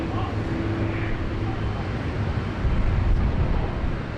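A departing airliner at Sydney Airport gives a broad, steady jet roar from a distance that swells slightly toward the end, with wind rumbling against the microphone.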